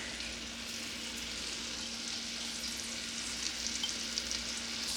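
Vegetables sautéing in a pan, a soft continuous sizzle and hiss with faint crackles rising slightly toward the end, heard alone without talking.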